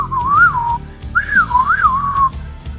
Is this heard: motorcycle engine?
no